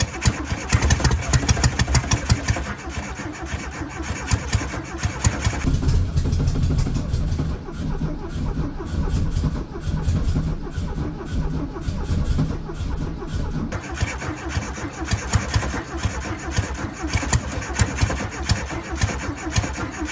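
A 1968 VW Beetle engine, running for the first time in 35 years, roars loud and close with a rough, uneven sputter throughout. It dips briefly in the middle before picking back up.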